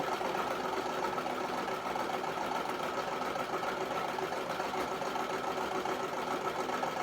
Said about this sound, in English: we're going to sew around the whole entire core of the pad here